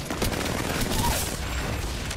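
Gunfire in a battle royale video game, Three Strikes limited-time mode, with the player under fire: dense, continuous rattling shots and impacts close by for the whole stretch, with a faint voice underneath.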